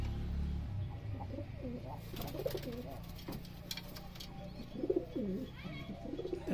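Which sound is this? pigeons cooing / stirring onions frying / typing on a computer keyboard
pigeons cooing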